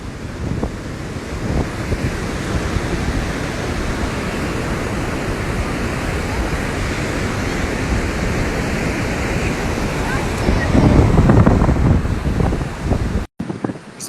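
Waves breaking on a beach, a loud steady roar of surf mixed with wind buffeting the microphone, swelling briefly near the end before an abrupt cut.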